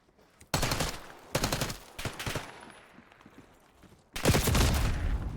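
Bursts of automatic gunfire in the video game Black Ops 6 come in several loud, close volleys separated by short gaps, with a final heavy burst at the end, and no talking.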